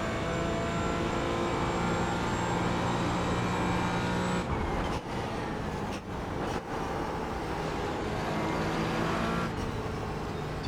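Porsche race car engine in a racing video game, a steady loud drone with shifting pitch, briefly dipping a few times near the end as the car lifts and changes gear.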